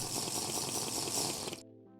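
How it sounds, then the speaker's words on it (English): Brief broadband watery gush of a character drinking water in Minecraft, steady for about a second and a half, then cut off abruptly, leaving faint tonal game sounds behind. "Let's drink some water here."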